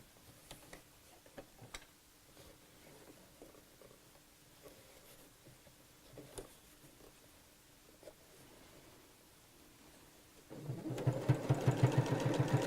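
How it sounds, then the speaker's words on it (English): A sewing machine re-sews a piping seam on fabric. Quiet handling and faint ticks come first, then the machine starts up near the end and runs loud and steady with rapid, even stitching. "Then we'll take this back to the sewing machine again and re-sew over that line that I've just unpicked."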